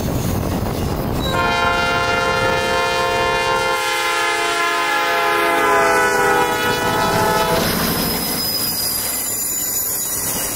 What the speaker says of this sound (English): The harvested sugarcane fields allow us to see this train coming from miles away.